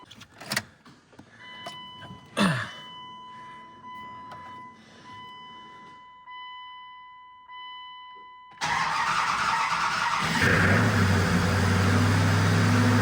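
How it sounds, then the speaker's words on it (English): A procharged Dodge Durango V8 cranks and fires on its first startup, going from quiet clicks and whines into a sudden loud, steady idle roar. "So we're gonna see if this thing will finally fire up."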